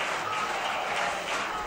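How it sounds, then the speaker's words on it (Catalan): Applause at a Gandia town council investiture session for Lorena, a dense, steady clapping from a crowd filling the whole moment at fairly high level. "Gran ovación a Lorena también"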